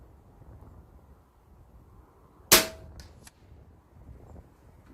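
A single sharp crack from a sub-12 .22 calibre air rifle fired outdoors on a windy day, close and loud, with a brief ringing tail over low wind rumble.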